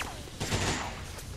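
Gunfire in the XCOM 2 video game: a short burst of rapid shots swells in the middle of the moment, loud and close, with a muffled thud underneath.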